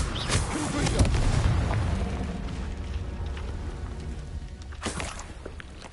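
Confringo blasting spell from the Hogwarts Legacy video game going off, a booming explosive burst with a rumbling tail, then a second sharp blast shortly after, loud and close.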